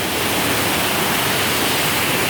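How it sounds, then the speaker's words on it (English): Indoor waterfalls at a ride at Top of the Rock rush in a steady, loud, broadband roar that fills the space without pause. "It's noisy in here because we got waterfalls everywhere."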